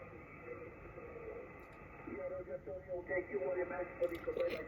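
Band-limited ham radio reception on the 160m band, a steady layer of hiss and static with a faint, muffled voice coming through the receiver.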